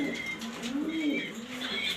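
A light-coloured Super Mili pigeon coos softly up close in a short, rolling call.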